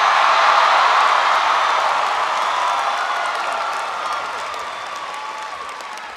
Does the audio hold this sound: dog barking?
no